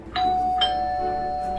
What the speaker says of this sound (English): Was that the doorbell?